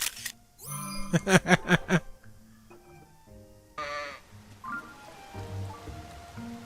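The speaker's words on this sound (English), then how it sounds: "Sheep. My bad." Sheep in The Legend of Zelda: Tears of the Kingdom give a run of wavering, nasal bleats close by, followed by a second longer bleat and softer game ambience with scattered light tones.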